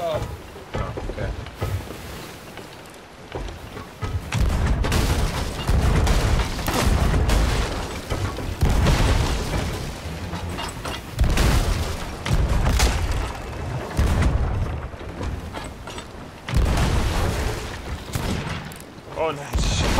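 Cannon fire during a ship battle in the pirate game Sea of Thieves, with heavy booms and rumbling blasts repeating over sloshing water while several players talk excitedly throughout.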